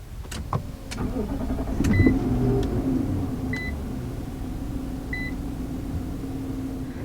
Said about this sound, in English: Now start it up, just put your foot on the brake and press the standard push button start.